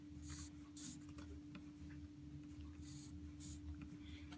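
A pen scratching across paper while drawing tape diagrams for ratio homework, with short, faint strokes in a steady stop-and-start rhythm over a constant low electrical hum.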